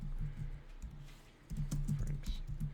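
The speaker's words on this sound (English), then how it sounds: "I'm going to double click into the title and just start typing." Someone types on a computer keyboard in short bursts of soft key clicks, close by and quiet, with a low steady hum in the background.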